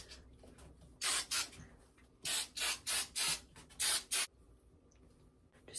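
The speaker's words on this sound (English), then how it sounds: "now I'm gonna put hairspray in it" Hairspray from an aerosol can hisses onto curly hair in a rapid run of short bursts, eight or so sharp close sprays with brief gaps between them, in a quiet room.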